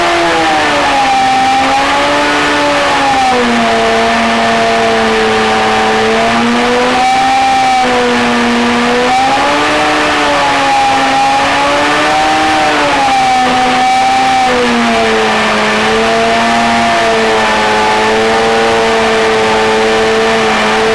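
A 2008 Yamaha R6 race bike engine revving while its throttle settings are tuned, loud and close, the high-pitched note rising and falling in repeated waves over twenty seconds.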